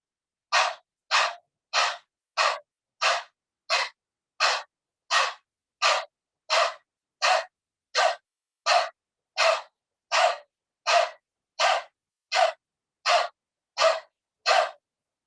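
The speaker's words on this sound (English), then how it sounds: "Next, dog breathing." Rapid rhythmic panting breaths performed as a dog-breathing yoga exercise, about twenty sharp, evenly spaced exhalations in steady succession, close and clear with silence between each breath and no talk.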